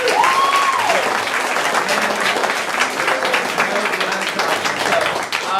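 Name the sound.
audience applause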